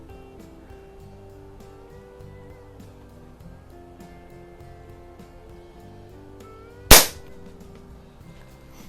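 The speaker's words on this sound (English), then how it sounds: "And I'm shooting these rifle cutter pellets." A single sharp report from a Walther LGR air rifle firing a rifle cutter pellet during sporting rifle league practice, standing alone near the end over a steady low background hum.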